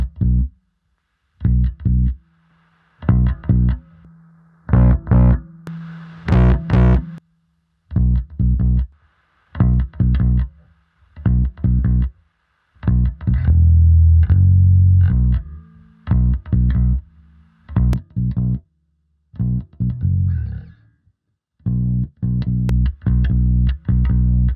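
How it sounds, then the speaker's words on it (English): DI bass guitar track run through a distortion effect, playing a rhythmic line of repeated plucked notes in short phrases with brief gaps, loud and upfront with a gritty edge and no voices. "Now let's add some distortion to give this bass track some bite."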